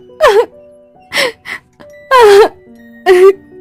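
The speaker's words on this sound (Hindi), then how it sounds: "तभी उसको वही रोने की आवाज सुनाई दी" Wavering, mournful wails rise and fall in four separate cries as an eerie crying effect for a horror story, loud and close against near silence.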